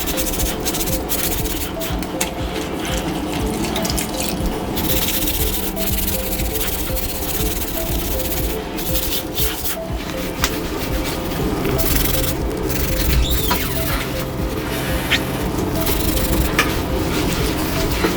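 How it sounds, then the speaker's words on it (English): Grout is scrubbed hard with Vanish Oxy Action cleaner to lift grease, giving a steady, close, continuous rubbing and scraping that runs without pause and stays loud throughout. "We're going to give it a good scrub, work it in properly"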